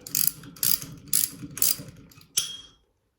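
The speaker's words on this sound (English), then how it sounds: "all I need to do now is use my screwdriver to move this thing in there" Five rhythmic ratcheting bursts from a screwdriver as a part is worked into place on an AK-47 Yugo Zastava PAP M70 fixed triangle stock, close and alone with no talk.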